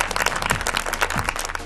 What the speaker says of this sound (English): Let's give a warm round of applause to our favorite 6-year-old.